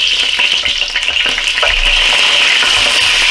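A vegan patty fries in oil in a pan at medium-high heat, a loud, close, steady sizzle with crackling pops throughout and no voices.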